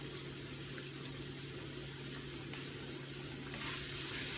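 Garlic frying in a hot pan for shrimp udon, a steady close sizzle running unbroken over a low kitchen hum, with no voices.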